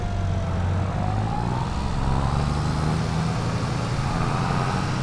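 Sonalika 60 RX tractor in Farming Simulator 22, its engine a steady, loud droning rumble that holds an even level throughout with no speech over it.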